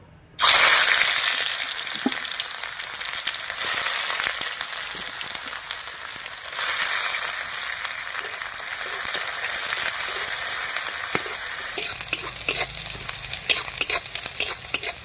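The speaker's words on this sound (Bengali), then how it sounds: "আমি এবার পেঁয়াজ কুচানো দিয়ে দিব।" Chopped onions hit hot mustard oil with a sudden loud sizzle, then fry steadily with continuous crackling and occasional stirring scrapes, close and without talk.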